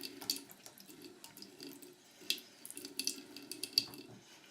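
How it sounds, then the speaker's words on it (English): A makeup brush is swirled and squeezed in water, giving soft, quiet sloshing and dripping sounds with occasional small splashes, close but faint. "you just want to swirl that and kind of squeegee the water out"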